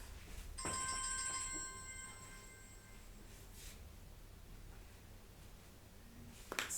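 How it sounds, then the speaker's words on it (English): A phone rings indoors with a melodic electronic ringtone for a few seconds before cutting off, fairly faint against room noise, with a brief rustle afterward. "Let me switch the phone off."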